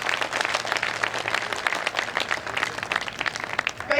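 Audience applause at a Hindi poetry recital gathering, a brisk burst of many hands clapping with distinct sharp claps standing out over the crowd.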